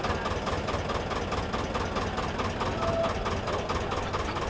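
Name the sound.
boat engine idling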